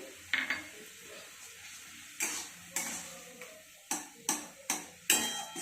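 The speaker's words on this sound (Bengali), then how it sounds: "দেখো এইভাবে কড়াইতে নাড়তেই হবে, বারবার নেড়ে নেড়ে আনারসটাকে ম্যাশ করতে হবে।" Pineapple being stirred and mashed in a kadai with cashews and raisins added: a sharp metal clink at the start, then repeated scraping knocks of a spoon against the pan in a loose rhythm over a soft sizzle.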